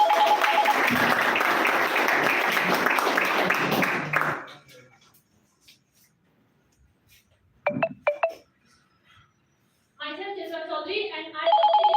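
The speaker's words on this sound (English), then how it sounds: "Huge round of applause for them." A burst of applause at a school English debate fills the first few seconds, then fades to near silence before a few sharp knocks and a speaking voice.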